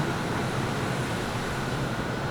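A Miami MetroMover automated people-mover train in the Brickell loop, a steady, even rumble of wheels and motor with constant broadband noise, close and unbroken, no voices.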